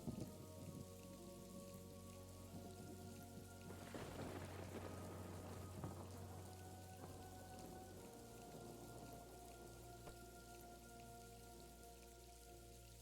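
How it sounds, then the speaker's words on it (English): A raging storm in a village setting: steady rain hissing and pattering on surfaces, with faint rumbles, under sustained tonal sounds. It is constant and moderately quiet throughout, with no speech. "the storm that starts to pick up and raging outside"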